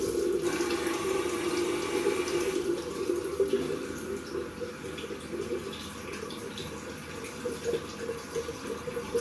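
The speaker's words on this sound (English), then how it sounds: "So I'm going to wet" A bathroom tap runs into a sink as water is splashed onto the face before a shave with a shave stick, a steady close gush that softens and becomes more broken partway through.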